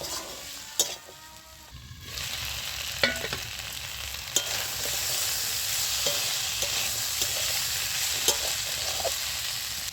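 Vegetables with turmeric and salt sizzle steadily in a pan while a spatula stirs them, giving a few sharp scraping taps over a continuous frying hiss.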